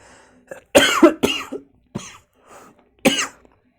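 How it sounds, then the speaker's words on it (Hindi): Several sharp coughs from a cold in quick succession, close and fairly loud, followed by a few softer throat sounds and one last hard cough after a pause. "अरे यार सर्दी खांसी"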